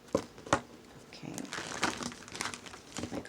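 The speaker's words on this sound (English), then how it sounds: "My cards don't want to shuffle." Tarot cards are shuffled in short, soft bursts of papery riffling and crinkling, close and faint.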